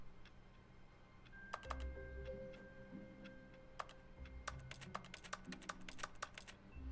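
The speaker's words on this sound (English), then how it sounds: "Why is it making a keyboard noise?" Keyboard typing sounds play in The Stanley Parable video game, bursts of sharp clicky keystrokes arriving in quick irregular clusters, fairly close and clear over a quiet room tone.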